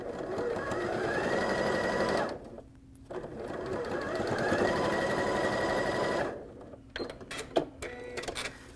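Sewing machine stitching the seam of an outdoor pillow cover with a zipper, a steady close whirring run of several seconds, a brief pause, then another long run before stopping with small handling clicks.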